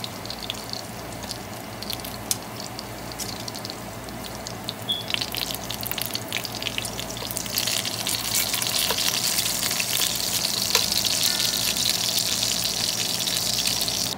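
Pork belly renders in a hot pan with a steady crackling sizzle, close and moderately loud, growing busier and louder in the second half with scattered pops.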